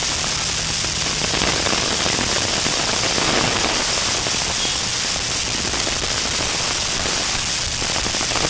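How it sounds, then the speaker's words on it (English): Heavy rain during a severe summer thunderstorm in New York City, a dense, continuous hiss that stays loud and uniform throughout, with no talking. "And there's the rain."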